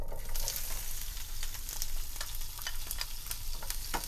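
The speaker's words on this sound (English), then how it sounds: "You saute the onions for just a little bit" Onions sautéing in a pan for a restaurant-style cashew curry give a steady, close sizzle with scattered crackles and pops throughout, with no voices over it.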